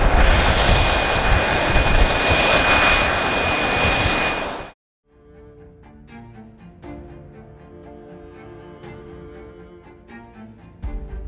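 A T-7A Red Hawk jet with a single General Electric F404 afterburning turbofan roars loud and steady for about five seconds, then cuts off abruptly and music takes over.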